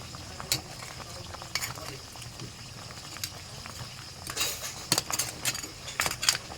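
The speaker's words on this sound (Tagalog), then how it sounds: "Ang kulo na yung niluluto natin guys" Seafood simmering with moringa leaves and coconut milk in a pot, a low bubbling bed broken by sharp clinks of a utensil against the pot and scraping stirs, with a brief murmur of voice.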